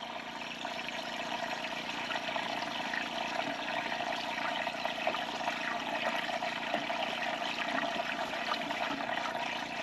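Liquid glugs steadily from a full 20-litre jerry can through a funnel, a continuous rushing pour with no talk, heard at a remote fishing camp on a Cape York trip.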